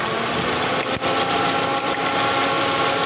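A misfiring 2016 Toyota Vios gen 3 engine idles close by with a steady rumble and a faint irregular stumble.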